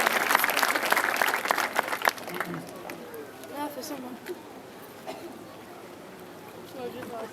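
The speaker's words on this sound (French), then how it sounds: "On peut l'applaudir au moins pour l'effort." Applause from spectators at a seal show at the Aquarium du Québec, a burst of clapping in the first couple of seconds that fades as a voice talks and crowd murmur lingers.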